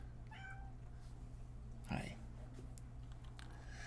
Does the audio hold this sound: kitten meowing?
yes